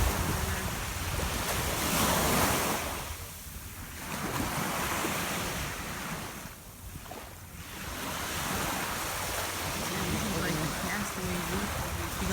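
Ocean surf rolls onto a beach in St. Thomas, a continuous broad wash of waves that swells and fades, with heavy wind buffeting the microphone.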